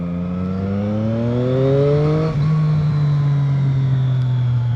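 A 2020 Triumph Street Triple 660 S motorcycle engine pulls hard in the restricted A2 version, its rising whine climbing steadily, then briefly dipping at a gear change before droning on loud and close.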